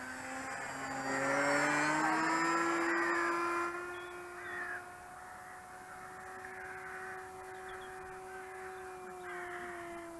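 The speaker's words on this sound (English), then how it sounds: "Crows like it too, look." Several crows caw loudly in a run of harsh calls over the first few seconds, then fade, while a steady droning whine continues underneath throughout.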